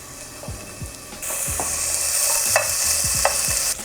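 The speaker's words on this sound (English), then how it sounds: "the bacon is already releasing its own fat" Bacon sizzling in a pan as its fat renders, with a bright, loud, steady hiss rising partway through and occasional low scraping knocks from stirring, close up.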